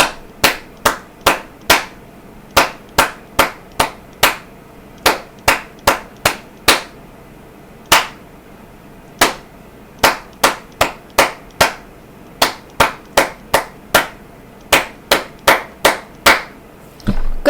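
A hand-clapped rhythm in a music lesson, sharp, crisp claps in grouped patterns with short pauses between groups, close and loud with no talking.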